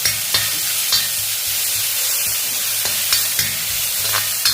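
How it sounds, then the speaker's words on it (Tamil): Crushed garlic sautéing in a pan, with a steady soft sizzle of frying under repeated sharp scrapes and taps of a spoon against the pan, close by, with no talking. "தட்டி வச்சுருந்த பூண்டையும் இதில் போட்டுக்கிடுவோம் இதை நம்ம வதக்கிக்கிடுவோம்"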